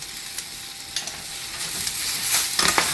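Fresh spinach tossed in a hot pan with a steady soft sizzle and a few brief stirring clatters, rising slightly toward the end, with no voices.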